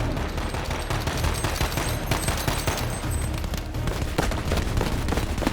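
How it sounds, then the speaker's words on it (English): Dense, continuous gunfire and explosions during a chaotic Warzone battle against a tank, loud and sustained with overlapping shots and booms throughout. "Now that was a crazy gunfight"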